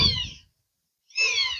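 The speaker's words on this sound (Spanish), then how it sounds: "nos permitan escuchar el sonido de las aves" Birds call in Mission Trails park: two short, bright, warbling calls fairly close by, separated by a silent pause, with no talking.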